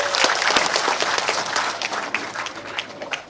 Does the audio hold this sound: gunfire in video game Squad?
no